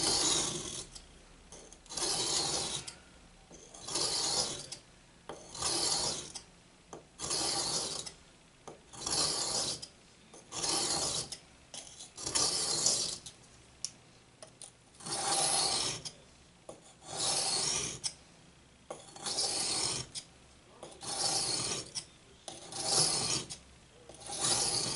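A kitchen knife drawn across a brick as a sharpening stone, gritty rasping strokes repeating steadily in close, regular back-and-forth passes, each stroke loud and scratchy with short gaps between.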